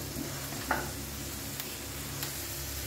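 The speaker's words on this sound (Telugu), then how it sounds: "ఇందులో పెట్టుకొని ఉడికించుకుందామండి, మగ్గించుకోవాలన్నమాట" Diced dosakai cucumber cooking in a pan for chutney gives a soft, steady sizzle, quiet and continuous, with one faint clink or stir near the start and a few tiny pops later.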